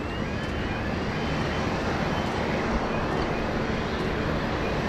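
A Hainan Airlines Dreamliner arriving at Sydney Airport gives off a steady, loud roar of jet engine noise, broad and unbroken throughout, with no voices.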